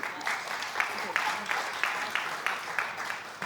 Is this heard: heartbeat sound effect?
no